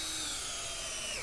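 A power drill whirs steadily as a second-grade student squeezes the trigger during a classroom garden-bench building project, its motor whine close and continuous for a brief burst.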